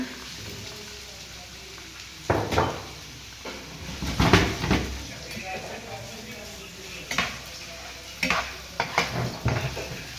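Chopped onions fry in oil for chicken rolls, a steady sizzling hiss broken by repeated scraping and clattering of a utensil against the pan, with some louder stirring bursts close by.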